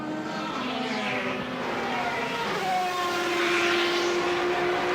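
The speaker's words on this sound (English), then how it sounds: "So Formula Le Mans, not long lasting, maybe 4 or 5 seasons, but they sound fabulous. They sound like a Corvette on full noise" Formula Le Mans sports prototype race cars at Silverstone pass by with a loud, Corvette-like V8 roar, engine pitch sweeping as they approach and recede, a continuous high-revving drone from trackside.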